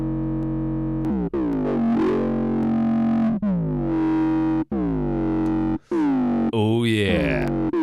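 A synthesized foghorn made in Serum with heavy distortion plays as loud, buzzing, sustained low blasts, several long tones separated by short gaps, with pitch bends near the end.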